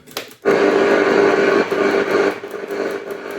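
An FM radio plays a loud, continuous broadband signal with a steady tone under it, starting abruptly after a brief quiet moment and holding throughout.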